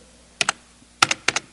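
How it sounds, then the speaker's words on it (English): Keys on a computer keyboard are struck in three quick bursts, each a pair or triplet of sharp clicks, close and crisp with quiet pauses between. "it types the answer on the keyboard"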